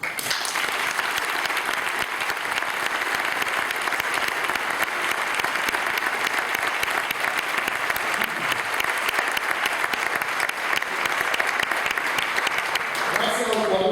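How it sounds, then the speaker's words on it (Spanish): Sustained applause from a large audience at a commemorative gathering for freedom fighters, honoring former association president Antonio Iglesias; dense, steady clapping fills the whole stretch without pause, fairly close and even in loudness. "para el cual pido un saludo y un aplauso."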